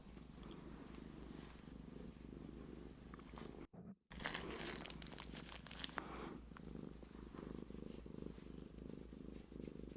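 A kitten purrs steadily and close up for the whole stretch, a low continuous rumble with a brief dropout near the middle, mixed with light rustling.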